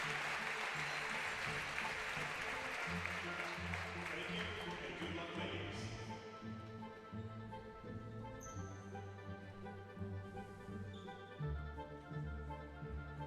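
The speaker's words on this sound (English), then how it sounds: "And now a moment of applause for the ones fighting and for the family members of those ones." A crowd at a girls' high school volleyball game applauds in a gym, steady clapping at first that fades as music and other sounds take over.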